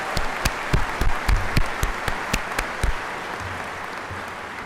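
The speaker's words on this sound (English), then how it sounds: "Please join me in giving them a huge round of applause." Applause fills a college convocation hall, a broad, sustained crowd clapping with some loud individual claps near the front that thin out as the ovation settles.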